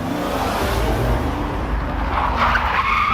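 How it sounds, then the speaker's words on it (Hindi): A car brakes hard to a stop at the gate of a fair, its tires skidding in a loud, rough screech that holds steady for several seconds with no voices. "मेले के दरवाजे के पास आते ही गुल्ली गाड़ी रोक देता है"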